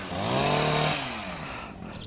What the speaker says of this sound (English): We got a chainsaw today.